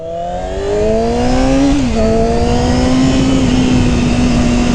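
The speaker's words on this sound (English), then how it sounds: "See what this iconic sport bike's all about." Yamaha R6 sport bike engine running loud and close, a steady high whine that climbs, dips briefly at a gear change, then holds a smooth rising drone while riding.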